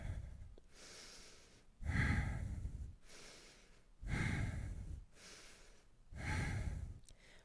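Slow, deep breaths during a yoga cat-cow stretch, three audible rounds of breathing in and out, close and soft with quiet pauses between each breath.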